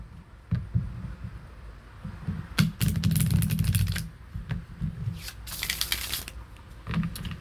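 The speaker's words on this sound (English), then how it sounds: "Get you one more shuffle in here" A deck of cards is shuffled by hand at close range: bursts of rapid riffling flutter separated by softer handling taps and sliding, loud and alone without talk.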